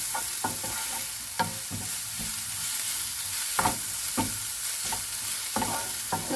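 Chopped tomato with salt sizzles and fries in a pan while being prepared as filling for stuffed squid, a steady crackle broken by repeated sharp scraping and stirring strokes of a spoon against the pan.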